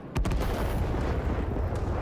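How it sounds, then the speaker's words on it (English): Explosions and artillery in the video game Rising Storm 2: Vietnam boom loud and dense, with a sharp blast near the start and then a constant rumble of battle fire. "Let's see the explosions."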